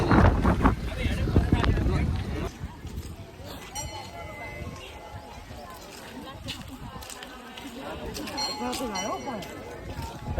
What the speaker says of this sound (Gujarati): પવન જો ખાલી પવન